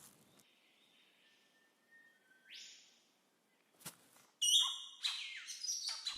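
Bowerbirds calling in an Australian forest: sparse whistles and chirps that build into a louder burst of bright, harsh calls near the end, fairly close, no talk.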